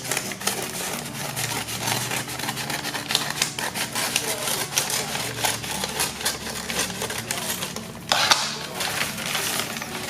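Folded packaging material for bath bombs is cut, producing a rapid run of crisp snipping and crunching clicks close to the microphone, with a brief louder rustle near the end.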